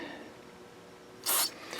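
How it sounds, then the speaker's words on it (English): A single short burst of aerosol cleaner spray into a clogged carburetor jet of a Briggs & Stratton lawnmower engine hisses for about a quarter second, close and crisp, against a quiet background. "we can start with a little bit of spray"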